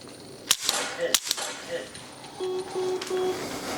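Dry-fire clicks from a pistol used with a Mantis laser trainer snap sharply a few times, close, while someone talks over them and short electronic beeps follow.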